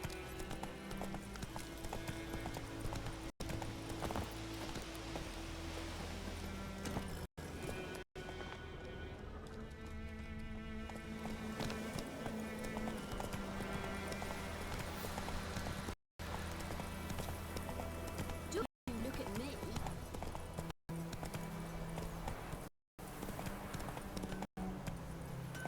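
Horse hooves clip-clopping at a steady galloping rhythm in The Witcher 3 game, loud and close throughout over a continuous musical score, with a few brief dropouts and a faint whinny.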